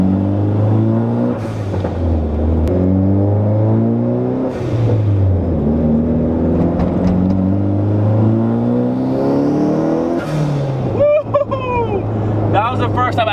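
A turbocharged Mk3 car engine revs and accelerates through several rising gear pulls at full boost, loud and close, with a voice speaking briefly over it.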